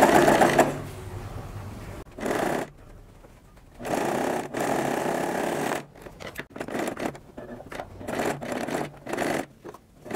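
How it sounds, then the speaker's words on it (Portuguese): A sewing machine stitches the bottom seam of a fabric purse in close, whirring bursts that stop and start, with short pauses and fabric handling between runs. "Primeiro fazer a costurinha, né, dessa parte de baixo, para fechar a abertura."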